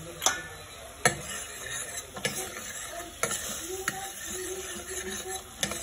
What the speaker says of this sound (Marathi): आणि आता आपण मसाला थोडासा आणखी फ्राय करून घेऊया तेल सुटेपर्यंत